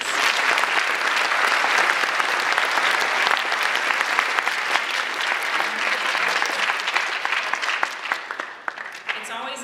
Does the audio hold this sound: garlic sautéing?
no